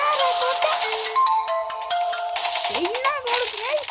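Incoming call on a mobile phone, a melodic electronic ringtone playing continuously and fairly loud, with a voice speaking over it near the end.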